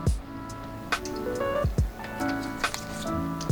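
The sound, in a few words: mixing vegan sriracha ramen sauce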